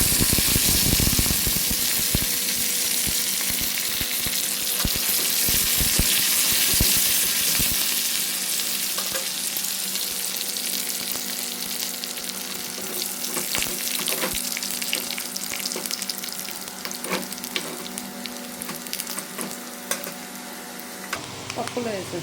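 Dried red chillies and curry leaves sizzling in hot tempering oil for dal, a loud continuous crackle with sharp spits and stirring clatter that eases slightly toward the end, no talking.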